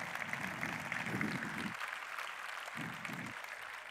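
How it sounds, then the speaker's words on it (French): Quiet, fairly distant applause from an audience for a volunteer at a closing plenary session, a soft continuous patter of clapping with low murmuring underneath. "On peut l'applaudir, je pense."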